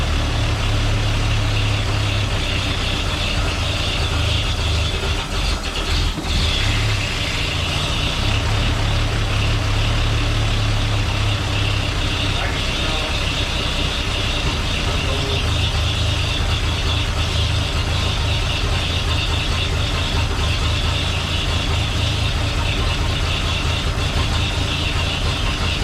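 An engine runs after a choke start, idling with a steady, loud low rumble that holds unbroken from start to finish, with no voices.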